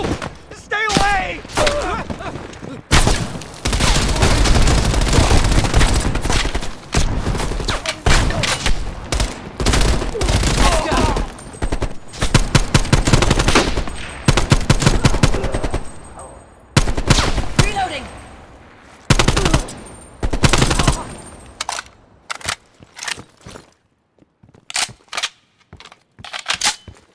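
Rapid gunfire and automatic bursts in a Call of Duty Black Ops Cold War campaign firefight in Cuba, loud and nearly continuous with brief pauses, shouted voices mixed in.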